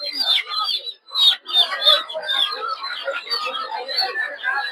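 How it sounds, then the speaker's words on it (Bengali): Native ducks and chickens at a busy village poultry market, a dense chorus of clucking and quacking birds close by, continuous with a few louder bursts. "দেখতে পাচ্ছেন প্রচুর পরিমাণে হাঁস মুরগি।"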